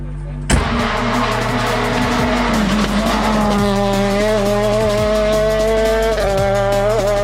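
A Peugeot 106 Rallye rally car at Rallye Salamandre 2025 races hard, its engine howling loud and continuous with rising and falling revs while the tires squeal and skid.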